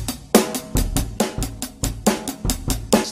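Rock drum kit laying down a steady, deliberately low-energy eighth-note pattern, with regular kick and snare hits under hi-hat at a moderate tempo, close and fairly loud with no talking.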